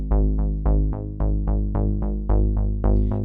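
A Dave Smith outboard synthesizer plays a mono part of evenly spaced plucky notes with bright decaying attacks, repeating in a steady pulse, loud and dry with no talk.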